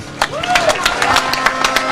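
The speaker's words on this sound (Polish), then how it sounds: "Wielkie brawa, Janusz Korwin-Mikke!" A political rally audience applauds Janusz Korwin-Mikke after his speech, with scattered, fairly close hand claps that sound irregular and sparse and carry a faint tonal sweep in the background.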